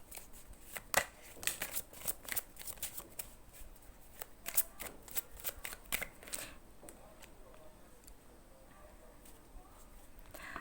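Tarot cards shuffled during a reading, a rapid run of crisp riffling flicks in bursts over the first six seconds, then quieter handling of the deck, close and alone.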